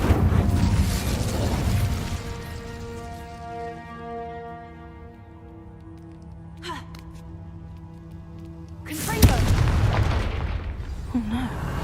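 Incendio fire spell cast in the Hogwarts Legacy video game, a sudden loud whooshing blast near the end that cuts over a sustained tonal game soundscape, with a brief crackling burst shortly before it.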